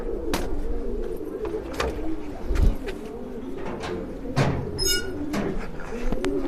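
Pigeons coo repeatedly as a racing pigeon arrives at its loft amid a busy outdoor background, with a few brief sharper calls and knocks scattered through.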